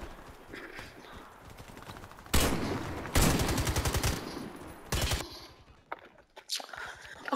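Bursts of gunfire in the online shooter game Warface, two loud rapid volleys standing out against quieter background game noise, followed by scattered sharper shots.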